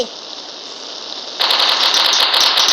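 Rapid automatic gunfire rings out in a video game, a hiss-like stretch giving way to a fast burst of sharp shots, loud and close.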